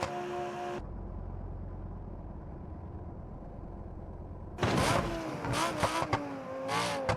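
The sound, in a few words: Lamborghini Gallardo accelerating in BeamNG.drive video game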